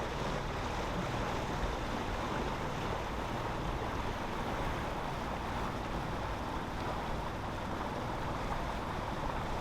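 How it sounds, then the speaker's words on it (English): Steady wind at sea aboard a fiberglass sailboat in Alaska, a constant broadband rush with low buffeting and water wash, unbroken and fairly even throughout. "A little bit of wind out here this morning coming out of the south."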